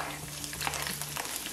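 Sliced green chillies crackle and sizzle as they fry in hot oil and get stirred, a short, close, steady spatter with no voices.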